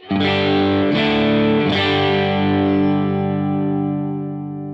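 Crunchy, overdriven electric guitar chord through a Dr Z Z Wreck valve amp, preamp gain near 10–11 o'clock, rings out loud and sustained, struck a couple of times, then slowly fading.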